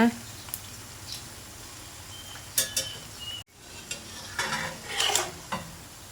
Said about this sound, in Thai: เราจะกลับด้านไปมาจนกว่าไข่สุกทั่วและกรอบนะคะ